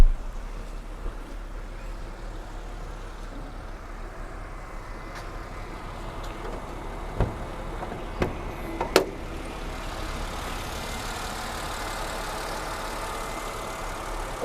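A 2004 Mercedes S350 engine runs at a steady low idle for the whole stretch, with a few sharp clicks and taps over the even hum.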